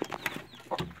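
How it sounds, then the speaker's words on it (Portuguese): A small Indian breed hen gives a few short, close clucks in quick succession, brief and moderately loud. "Muito boa essa galinha."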